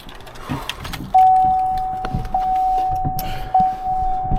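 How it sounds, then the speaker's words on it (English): A key is tried in the ignition of a badly wrecked Duramax pickup, followed by a steady electronic chime that repeats through the clip, with clicks and small rattles close by. "Just want to make sure the key works."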